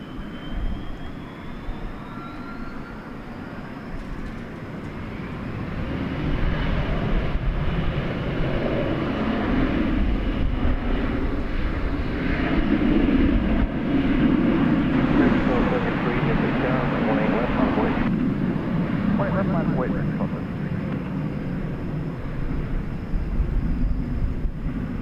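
A 24-year-old airliner taxis at DFW International Airport, its engines giving a steady, moderately loud rumble and whine that swells slightly midway and holds, with a commentator talking over it.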